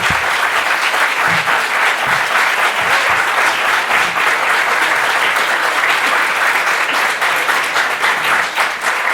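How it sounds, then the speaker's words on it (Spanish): A room full of people at a book presentation applauds steadily, dense clapping sustained at an even level throughout with no talking. "Vamos a despedir a Antonio con un fuerte aplauso"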